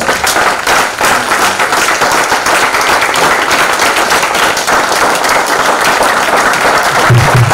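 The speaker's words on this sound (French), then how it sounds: "Vous pouvez acclamer le Seigneur." A church congregation applauds loudly and steadily throughout, dense continuous clapping close and full, with a brief low thump near the end.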